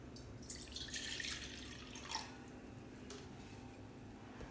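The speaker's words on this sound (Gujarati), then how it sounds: "દોઢ ગ્લાસ જેવું પાણી નાખી દીધું છે।" Water is poured into a cooking pot for a flower-based hair gel, giving a continuous splashing, trickling flow that swells in the first two seconds and then settles into a softer steady pour, close and alone with no talking.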